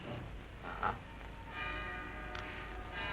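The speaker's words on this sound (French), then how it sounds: "je ne comprends pas que les habitants de Valheim aient choisi une mélodie étrangère pour leur carillon" Town carillon bells in Valheim ring a melody, faint, distant tones ringing through a steady hiss of old film soundtrack, with a couple of brighter strikes standing out.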